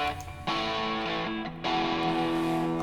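Electric guitar amp recording played back flat with no tone shaping, giving sustained, gritty distorted chords that shift pitch a few times, steady and moderately loud.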